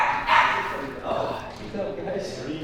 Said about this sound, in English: Are you gonna stop barking?